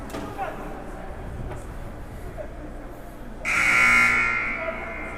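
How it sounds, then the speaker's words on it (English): A loud, harsh buzzer blares for about a second and a half over a noisy crowd at a high school boys' ice hockey game, signaling the end of a timeout, then cuts off as the murmur continues. "Buzzer there signaling the end of the timeout"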